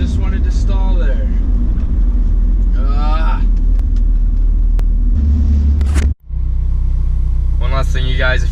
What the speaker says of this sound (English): Just wanted to stall there.